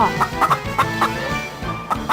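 Chicken in a fox-and-chicken fable clucking in short, sharp repeated bursts, loud and close, alone over a faint background bed.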